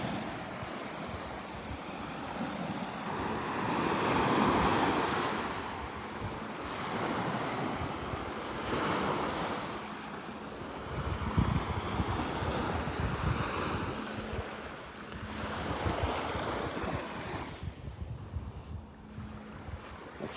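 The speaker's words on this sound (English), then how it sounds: "Got a little extra wave action right here." Ocean waves break over a shallow sandbar off a beach, a continuous rolling surf with slow swells rising and falling, steady wind across the microphone and no voices.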